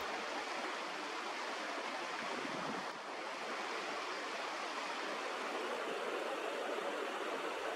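Whitemud Creek runs full after heavy rain, a steady close rushing of water that holds an even level throughout with no voices.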